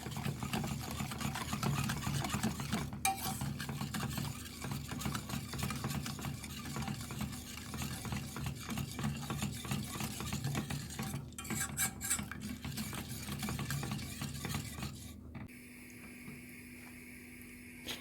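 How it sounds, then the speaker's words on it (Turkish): Sugar and flour being stirred into a pudding mixture in a pot, a steady scraping and swirling of a spoon that runs close and continuous for about fifteen seconds before easing off into a quieter hum. "Bir çay bardağı şekerimizi de ilave ediyoruz. Hepsini karıştıralım."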